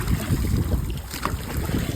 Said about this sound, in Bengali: বন্ধুরা প্রচন্ড হাওয়া উঠে গেছে নদীর মাঝখানে, আর বৃষ্টি হচ্ছে।